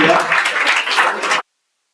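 Audience clapping at an Independence Day corporate event, a short burst of fairly loud applause with some voices mixed in, cutting off abruptly after about a second and a half.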